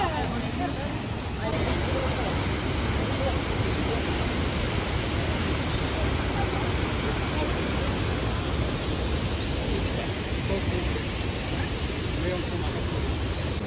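Jeongbang waterfall on Jeju Island pours as a loud, constant broadband roar with no break, its steady rush filling the scene and masking any faint background murmur.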